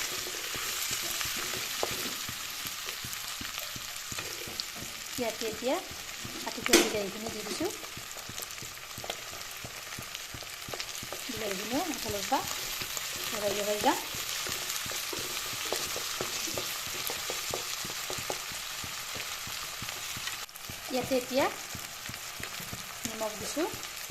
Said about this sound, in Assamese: ইয়াত এতিয়া আদা নহৰু পিঁয়াজখিনি দি দিলোঁ এইখিনি এনেদৰে লগাই দিছোঁ এফালৰ পৰা